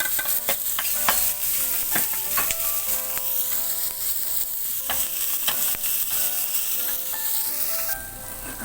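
Onion fries in olive oil in a hot pan with a steady, bright sizzle, broken by repeated scraping stirs throughout, close and continuous.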